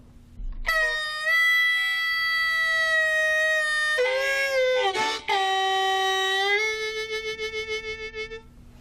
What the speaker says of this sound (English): If you listen to this, you'll hear a note start high and go low.